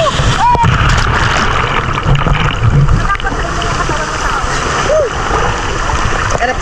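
Sea waves at Boracay crash and splash continuously against people in the water, loud and close, with churning surf and gurgling throughout and a few voices mixed in.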